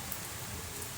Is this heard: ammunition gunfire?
no